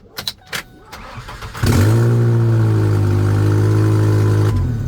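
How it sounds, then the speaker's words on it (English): A car with an exhaust leak and its O2 sensors removed fires up after a few sharp clicks and cranks, then settles into a loud, steady, rumbling idle up close. "yes, I know there's an exhaust leak."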